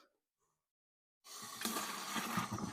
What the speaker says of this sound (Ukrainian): заливаємо воду.